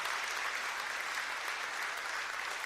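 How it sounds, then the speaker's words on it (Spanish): A church congregation applauds together in a steady, dense wash of clapping that holds evenly for a few seconds, with no voices above it. "Si le dale un aplauso al Señor"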